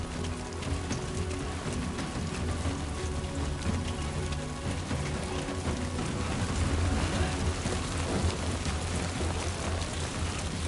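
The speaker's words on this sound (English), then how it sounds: "Rain. Gotta move." Steady rain falls in the Death Stranding 2 video game, a dense, continuous hiss of drops hitting surfaces at even loudness for the whole stretch, with no talk over it.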